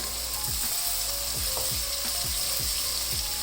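Finely chopped onion fries in a pan with a dense, steady sizzle while a utensil scrapes through it in quick, regular strokes. No one talks.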